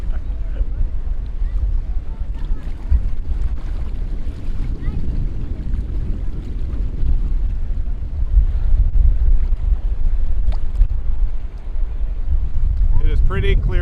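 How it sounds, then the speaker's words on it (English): Strong wind buffets a boat off Culebra, roaring gusts and microphone wind noise over water, loud and continuous, with voices talking faintly underneath. "It's windy."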